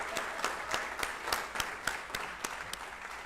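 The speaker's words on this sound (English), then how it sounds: "Rayanne, please come up so we can applaud you." Audience at a school district board of trustees meeting applauding a volunteer award winner, a steady patter of clapping with distinct individual claps standing out, moderately close, no talk.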